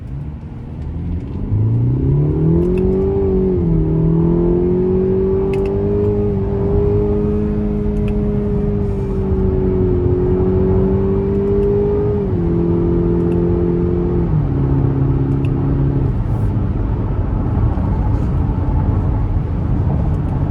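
A 2025 Cadillac XT5 Luxury with the 2.0T engine accelerates on a freezing day, its engine note climbing steadily, dipping at paddle-shifted gear changes and rising again, a loud continuous drone with no talk.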